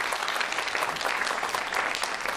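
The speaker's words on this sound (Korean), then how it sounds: "다 같이 한번 박수 한번 쳐드려야 될 것 같아요" Dense, steady applause from an audience, a brief burst of many hands clapping at once.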